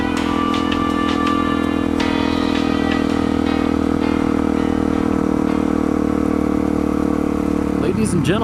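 A dual sport motorcycle on the commute home makes a loud, steady engine drone with wind rush throughout, heard up close from the rider's position while a voice talks over it.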